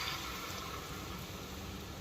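Tamarind water poured into a cooking pot, a soft continuous liquid rush that stays even and fairly quiet for the whole stretch, with no voices.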